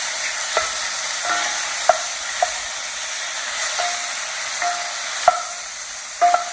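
Shallot stirred into mushrooms frying in a pan for a creamy garlic sauce, giving a steady soft sizzle with a handful of light spoon taps and scrapes spread across the stretch, no voices.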